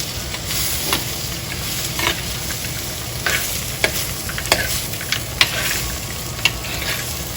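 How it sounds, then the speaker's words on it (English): Anchovies fry in a hot pan with a steady, loud sizzle while a spoon stirs them, tapping and scraping the pan at irregular intervals. "Keep stirring. Now you add your anchovies."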